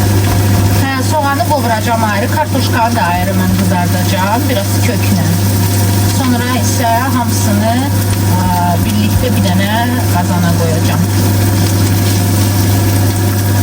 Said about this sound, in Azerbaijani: üzr istəyirəm səsə görə. Aspiratorun səsidir.